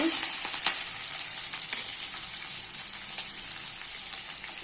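Tempering spices and onions fry in hot oil in a pan on a stove for upma, a steady bright sizzle with small crackles and pops throughout, close and continuous with no speech.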